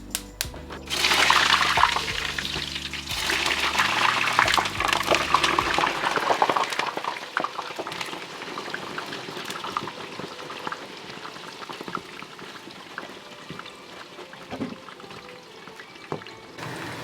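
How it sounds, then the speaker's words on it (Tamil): Steady hiss and crackle of aubergine frying in hot oil, loud and continuous, with a brief watery splash at the start. "கத்தரிக்காய் தண்ணியில் ஊற போட்டுட்டு கழுவி பொரிய போட்டுருக்குறேன். இப்போ நல்லா பொரிஞ்சு வரட்டும்."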